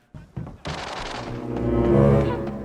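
Gunfire in the tactical shooter game Arena Breakout: a couple of sharp shots open, then a heavy, sustained roaring blast with rumbling low tones that swells and lingers, loud and close.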